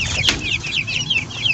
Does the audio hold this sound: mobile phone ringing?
no